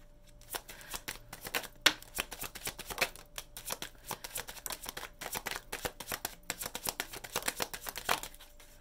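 Tarot cards being shuffled in quick, crisp riffling bursts that repeat steadily throughout, close and fairly loud, with no talking.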